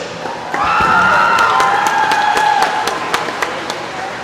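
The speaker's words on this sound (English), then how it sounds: "please join us in a round of applause for Union Local Jets senior, Faith Galovich" Applause and cheering rise from a swim meet crowd for a Union Local Jets senior, a loud sustained burst of clapping with shouts that fades toward the end.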